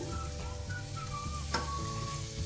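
Chopped spring onion greens frying in oil in a pan, a soft continuous sizzle with faint crackles and a brief stirring scrape midway, quiet and close, without talk.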